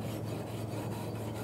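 Steady rasping scrape of a tool cleaning weld spatter from a steel T-joint fillet weld in the 2F horizontal position, continuous and close with even strokes, no talk.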